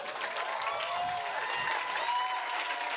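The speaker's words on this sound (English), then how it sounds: "Keep the applause going for Hiraya Performing Arts Business in Brisbane." An audience claps and cheers after a dance group's performance, a dense, continuous wash of applause close by and loud throughout, with light crowd noise mixed in.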